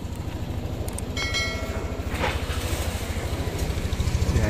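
Yamaha NMAX scooter engine revved with no load, a close, rhythmic idle thrum that rises slightly in pace and loudness toward the end, with a few light mechanical ticks.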